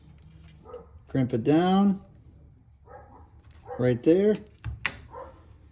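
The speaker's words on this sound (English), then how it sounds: "sorry, my dogs are barking" Dogs bark in the background of a workshop where an MSD ignition coil is being wired, with two harmonic bursts of barking and howling under a man's steady speech.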